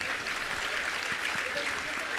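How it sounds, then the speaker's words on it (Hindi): An audience at a Jain religious discourse in Satna, Madhya Pradesh claps steadily and evenly, a dense wash of many hands that carries through the whole stretch without a break. "एक बार तालियां बजा दो।"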